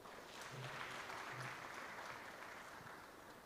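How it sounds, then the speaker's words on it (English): Audience applause at a national ICT innovation awards ceremony in Lilongwe, a faint, distant and continuous smear of clapping across the hall, with a couple of brief low tones beneath. "Please, let us give him a well-deserved round of applause"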